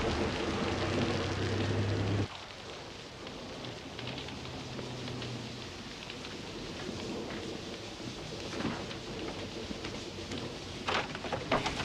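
Steady rain falls outdoors in a broad, even hiss, heaviest and loudest for the first two seconds before easing to a softer, continuous patter with a few scattered drops.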